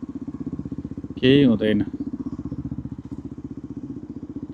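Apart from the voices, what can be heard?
motorcycle riding past traffic jam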